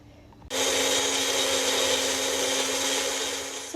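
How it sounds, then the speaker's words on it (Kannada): An electric mixer grinder whirs loudly and steadily as it blends mint, coriander, ginger, garlic and chillies into a paste, starting abruptly after a brief quiet moment and running continuously close by. "ಮಿಕ್ಸಿ ಜಾರಿಗೆ ಪುದೀನ, ಕೊರಿಯಾಂಡರು, ಜಿಂಜರು, ಗಾರ್ಲಿಕ್ಕು, ಆಮೇಲೆ ಚಿಲ್ಲೀಸ್ ಹಾಕ್ಬಿಟ್ಟು ಇವಾಗ ಇದನ್ನು ರುಬ್ಕೊಂಬರೋಣ"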